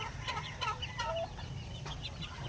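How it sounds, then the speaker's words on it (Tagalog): Soft clucking and chirping from several young chicks of a small chicken breed, close by, with short irregular calls over a low steady background hum. "mga anak na po ito ng aking maliliit na manok"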